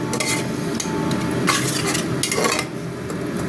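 A spoon scrapes and stirs spice masala frying in a pan for mutton curry, with a steady sizzle underneath and a few louder metallic scrapes, close and with no talking.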